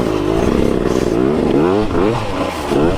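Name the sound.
KTM 300 dirt bike engine revving in a burnout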